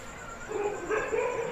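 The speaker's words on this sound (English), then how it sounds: "Dogs prowl the village streets." Dogs in a village street at night give a few short yips and whimpering barks, faint and somewhat distant over a steady background hum.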